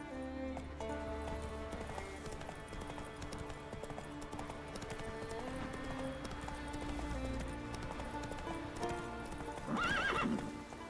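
A horse gallops in The Witcher 3 with steady, rhythmic clip-clop hoofbeats under background music, then a loud whinny near the end.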